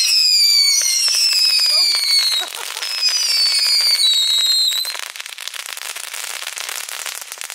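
Vuurwerkbunker fireworks being lit and set off, with whistling rising shots and dense crackling bursts that fade into scattered popping, close and loud, with a voice speaking briefly.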